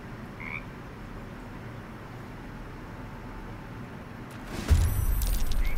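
A frog croaks in the video game Baldur's Gate 3, low and steady over a background hum, before a sudden louder burst of game noise near the end.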